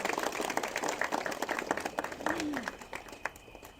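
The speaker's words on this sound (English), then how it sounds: "So please, a round of applause for all of you blessed souls also." Faint, distant applause from a satsang audience in Los Angeles rolls on as a steady patter, with scattered voices mixed in.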